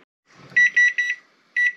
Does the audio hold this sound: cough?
no